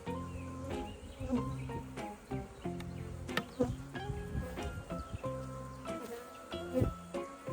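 A steady, low hum of many honey bees buzzing close by at a hive, with a few louder passes and some soft handling noises.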